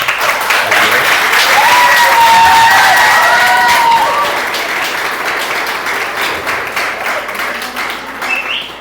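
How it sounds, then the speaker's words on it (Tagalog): Audience applause in a Filipino church teaching session: dense, sustained clapping from a large crowd for several seconds, with faint cheering, slowly tapering toward the end. "Okay, palakpak tayo, palakpak."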